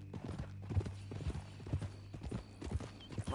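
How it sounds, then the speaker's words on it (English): Horse hooves clip-clopping at a steady walking rhythm in the Red Dead Redemption 2 video game, close and fairly loud, with regular repeated hoof strikes across the whole stretch and faint game ambience beneath. "That a new horse?"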